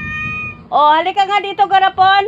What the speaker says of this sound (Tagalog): Yan ang pusa namin